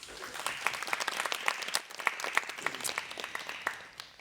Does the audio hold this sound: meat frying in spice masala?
no